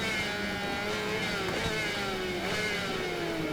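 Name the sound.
Yamaha R6 motorcycle engine racing in video game Ride 4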